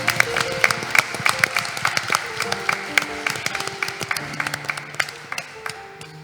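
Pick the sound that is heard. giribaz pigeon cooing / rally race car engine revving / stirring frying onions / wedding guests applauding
wedding guests applauding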